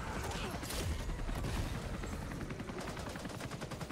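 Gunfire and explosive blasts from the video game Back 4 Blood as grenades are thrown down a hole, a dense continuous rattle of shots with rumbling bursts throughout.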